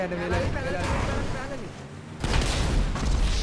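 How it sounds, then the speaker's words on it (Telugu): A vehicle blows up in GTA 5 on a mega ramp stunt course, a loud booming blast surging in after a stretch of game noise and lingering as a rumbling roar, with voices talking over it. "బండి పేలింది"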